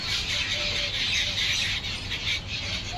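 A parrot at a home where birds are fed gives harsh, shrill squawks and squeals that run almost continuously, fairly close, over a low background rumble.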